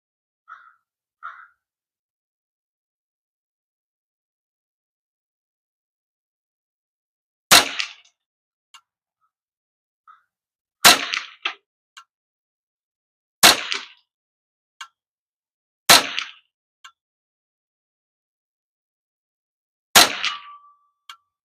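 A .22 caliber 10/22 rifle fires five sharp, loud single shots spaced a few seconds apart, each with a short ringing tail, after a brief stretch of quiet at the start.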